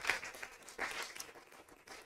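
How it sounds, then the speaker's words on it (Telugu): Faint, scattered clapping from a church congregation during a Telugu Christian sermon, coming in uneven bursts throughout. "గట్టిగా చప్పట్లు కొట్టండి."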